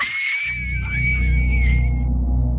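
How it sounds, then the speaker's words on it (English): A blood-curdling scream, high and sustained for about two seconds over a low rumbling background, loud and close in a creepy setting. "Out of nowhere, a blood-curdling scream is caught on camera, sending the girls running in full terror."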